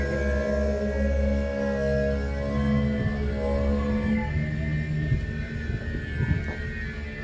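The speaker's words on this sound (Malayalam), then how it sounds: "അവിടെ ഹെലികോപ്റ്റർ വരുവാ." A helicopter approaches, its engine and rotors making a steady, loud, droning hum that fills the whole stretch, with no voices heard.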